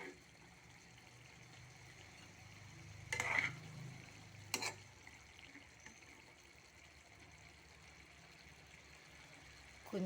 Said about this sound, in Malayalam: മത്തി പീര വെക്കുന്നത് നല്ലപോലെ വെന്ത്